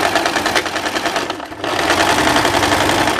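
A sewing machine stitches the lining seams inside a long winter blazer with a loud, fast mechanical chatter. It pauses briefly, then resumes at a steady, even pace.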